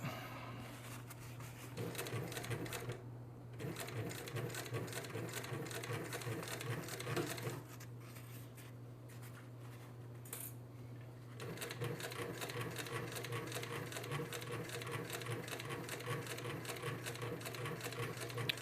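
Cylinder arm sewing machine stitching steadily at close range, a continuous rapid mechanical whir with a fast needle patter that pauses briefly twice before resuming.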